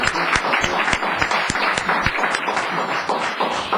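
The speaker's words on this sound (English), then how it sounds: "So applause, please, for Steve and his entire team." Audience applause at a town council meeting, a steady patter of many hands clapping at moderate volume for a few seconds, with no talking over it.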